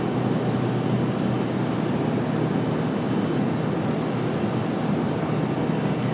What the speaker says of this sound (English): Hey, here it comes, our FedEx ATR.